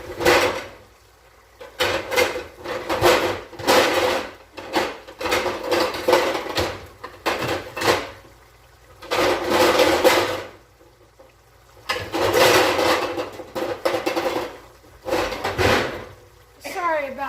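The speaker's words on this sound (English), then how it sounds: "My lid drawer." A kitchen drawer full of pot lids is pulled open and pushed shut several times, giving repeated loud clattering bursts of metal with short quiet gaps between them.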